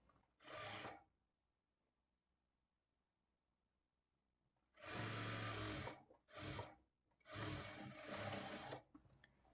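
Sewing machine running in several short bursts along a marked line on a princess-cut blouse seam, close and loud with quiet pauses between runs.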